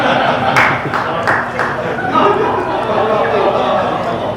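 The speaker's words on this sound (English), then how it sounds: "I got some O's and I got some claps" A comedy-show audience gives a short scatter of claps and appreciative murmurs while a performer talks over it, the clapping light and brief under the crowd chatter.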